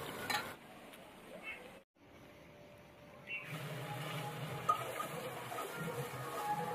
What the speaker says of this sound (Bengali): এবার এইভাবে ধীরে ধীরে আস্তে আস্তে কষিয়ে কষিয়ে রান্না করতে হবে